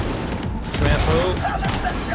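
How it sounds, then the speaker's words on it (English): Enemy gunfire in the video game Cyberpunk 2077, a steady stream of dense rapid shots that swells louder partway through, mixed with other game noise and no clear speech. "there's a guy right here shooting me as well"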